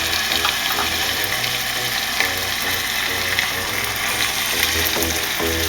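A stuffed chicken roll filled with spinach and cheese sizzles steadily as it sears in a hot pan, a constant crackling fry with small irregular pops and clicks, close and unbroken, no talking.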